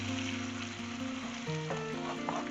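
Chicken sizzling steadily in a hot pan on the stove while cooking a maqlooba, a continuous close frying hiss with a few stirring noises toward the end.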